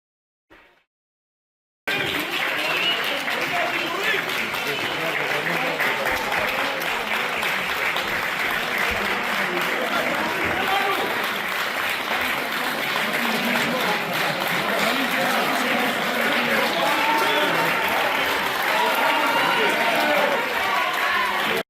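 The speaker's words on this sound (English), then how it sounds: "Standing ovation." A standing ovation inside an Israeli court: sustained, dense applause and cheering from a crowd that starts abruptly after a moment of silence and holds at a steady roar, with voices mixed into the clapping.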